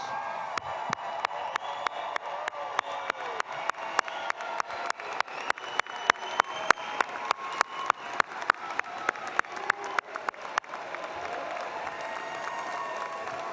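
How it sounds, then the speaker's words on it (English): A large crowd at a graduation commencement ceremony applauds steadily, a sustained wash of clapping that continues without letup for many seconds. "give our well-deserving graduates another round of applause"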